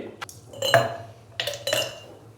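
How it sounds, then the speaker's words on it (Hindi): Ice cubes dropped into two drinking glasses for a sattu sharbat, heard as a few sharp clinks and clatters in two bursts, close and fairly loud against a quiet background. "2 गिलास लिए हैं, गिलास के अंदर हम बर्फ़ डालेंगे"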